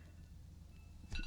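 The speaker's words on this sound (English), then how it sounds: "that's my alarm" A phone alarm goes off with a short, bright electronic beeping tone that starts abruptly near the end, fairly clear over a quiet room background.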